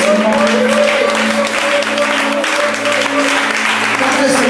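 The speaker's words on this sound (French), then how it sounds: "Je vais vous demander de vous tenir debout et d'acclamer le Seigneur" A church congregation applauds and cheers for the Lord in steady, loud, dense clapping with crowd voices that fill the whole stretch without letting up.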